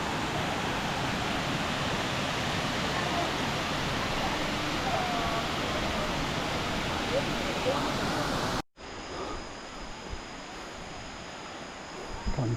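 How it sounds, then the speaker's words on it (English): A powerful waterfall roars as a dense, continuous rush of water, loud and steady, then cuts abruptly to a quieter, more distant rushing with faint background noise. "Definitely the best waterfall I've ever seen."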